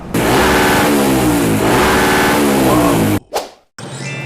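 A carbureted motorcycle engine fitted with a CDI box screams against its rev limiter at around 9,000 rpm, loud and close, holding a stuttering high rev for three seconds before dropping off with a quick blip.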